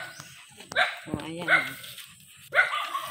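A dog barks a few times, close and sharp, in short bursts, while people talk over and between the barks.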